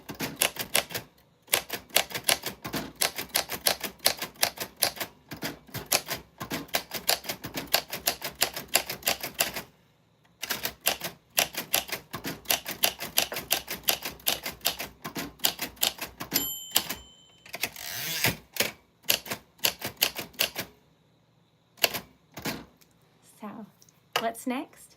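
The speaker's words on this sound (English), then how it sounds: "Isn't that crazy that it still works like so well? Knock on wood, but it's a good typewriter." A 1949 manual typewriter clacking steadily, dense rapid keystrokes close up with short pauses, carriage-return dings and a zip of the carriage, running in bursts for about twenty-five seconds.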